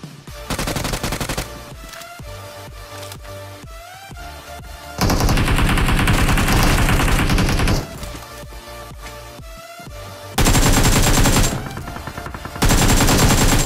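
Heavy automatic gunfire in the video game PUBG Mobile, with loud sustained bursts of rapid shots broken by quieter stretches of background game sound.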